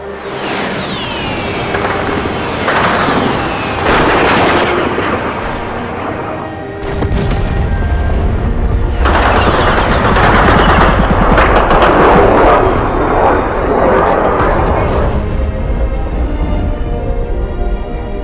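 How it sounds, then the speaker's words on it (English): Bombs and anti-aircraft fire at Stanley airfield in the DCS combat flight game, heavy booms and rumbling explosions layered with sustained gunfire and a jet-like whine, loud and dense throughout, with faint narration beneath. "an Argentine camera team watched the bombs falling and the fierce anti-aircraft fire"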